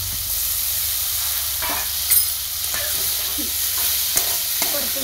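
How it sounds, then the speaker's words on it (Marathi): Hyacinth bean pods sizzle in a pan with spices, giving a steady frying hiss broken by the occasional scrape and clink of a spoon stirring. "धुवून घेतलेली घेवड्याची शेंग ती टाकून घ्यायची."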